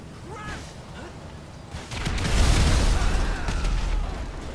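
A bomb goes off in GTA 5, a deep rumbling boom that swells and lingers after a stretch of quieter game noise, with faint voices in the background.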